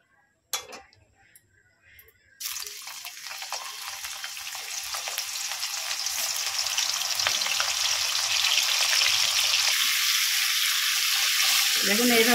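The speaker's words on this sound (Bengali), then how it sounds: "এক চামচ ঘি দিয়ে দেব, চলুন এক এক করে ফুলকপিগুলো ভেজে নেব।" Cauliflower florets dropped into hot ghee in a pan: a couple of sharp clinks, then a sudden loud sizzle that swells and holds steady, with a brief scrape near the end.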